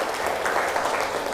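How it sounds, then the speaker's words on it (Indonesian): A classroom of students claps for a group after its presentation, giving brief, steady applause from many hands, moderately loud and even throughout, with no talk over it. "tepuk tangan boleh untuk kelompok 2"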